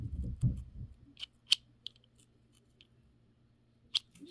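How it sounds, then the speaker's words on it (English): Scissors snip through the middle of a zipper in a bag-sewing project: a few sharp, isolated cuts ring out close by after a brief muffled rustle, with quiet pauses in between. "Take and make a snip."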